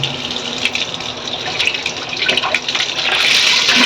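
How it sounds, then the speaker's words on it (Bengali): Water runs from a tap fitted with an add-on nozzle in a steady, close, hissing stream that swells slightly louder toward the end, with no voices over it. "এটা জলটা খুব আস্তে আস্তে পড়ে"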